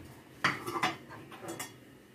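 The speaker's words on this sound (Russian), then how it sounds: "Крышечку надо маленькую, девочки," A small metal saucepan lid is picked up and handled in a home kitchen, giving a few close clinks and scrapes of metal against a pot, with no talking.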